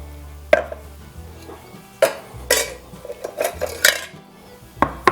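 Canned pineapple chunks in juice are tipped into a container, with a few sharp clattering bursts of metal and fruit knocking against the vessel, separated by brief quieter gaps and no speech.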